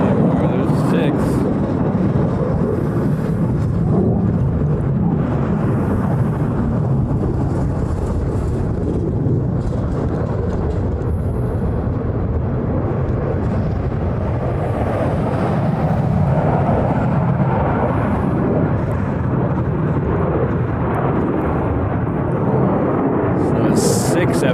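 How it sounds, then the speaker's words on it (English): Formation of six F-22 fighter jets passing over during planespotting in Hawaii, a sustained loud, broad roar holding steady throughout, with people talking underneath. "So it's 6 F-22s."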